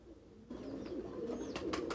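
A male Sialkoti breeder pigeon gives soft, low cooing, faint and close with little else around it.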